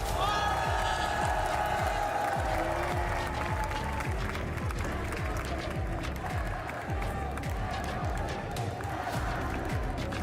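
A packed arena crowd at a Valorant grand final roars and applauds steadily, a dense, continuous wash of cheering and clapping, while people talk over it.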